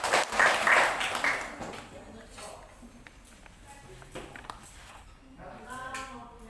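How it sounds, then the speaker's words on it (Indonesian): A classroom briefly applauds a student after a chemistry demonstration: a short burst of clapping at the start that quickly fades, with voices talking under and after it. "Kasih tepuk tangan dulu."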